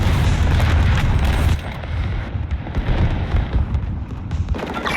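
Artillery strike explosions in the shooter game Modern Warfare, a loud rumbling boom that sustains heavily for over a second, then fades into lower rolling debris and aftershocks.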